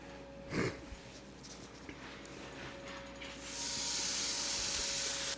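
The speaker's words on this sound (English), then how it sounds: "Now we're gonna go ahead and get the burger patties put on here" Burger patties for crack burgers hitting a hot cooking surface, a quiet start with a faint steady hum, then a loud, continuous broadband sizzle that swells up and holds to the end.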